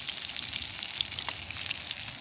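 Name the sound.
cheeseburger patty frying at a winter camp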